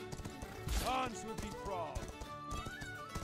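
Horse hooves clip-clopping and a whinny in the medieval combat video game Mordhau, with rhythmic galloping under game music and someone talking over it.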